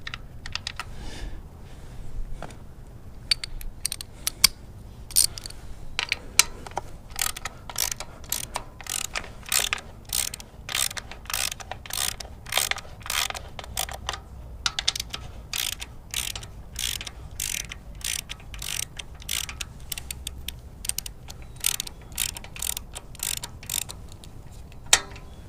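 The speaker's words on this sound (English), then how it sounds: "Okay, we get these breather bolts out." A hand ratchet clicks steadily while removing the breather bolts from a Harley-Davidson air cleaner during a Screamin' Eagle Stage 1 install, with rapid close metallic ticks coming in repeated bursts and no talking.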